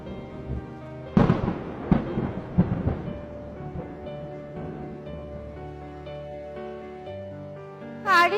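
A cartoon storm effect of thunder and rain: several booming cracks and rumbles roll in early, then fade under sustained musical tones, with a short high sound at the very end.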